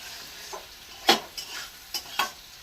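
Food frying in a pan, heard as a quiet sizzle broken by a few sharp, separate spatula scrapes against the pan.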